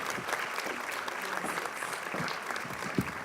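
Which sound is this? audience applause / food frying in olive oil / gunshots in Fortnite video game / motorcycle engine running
audience applause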